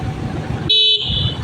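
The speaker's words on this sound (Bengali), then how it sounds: "এতবার দেখেন হর্ন দেওয়ার পরে ওটা সাইড দিতে চাচ্ছে না" A single loud car horn blast, sustained for about a third of a second, cutting over the rumble of a moving motorbike, honking at an auto-rickshaw that won't give way.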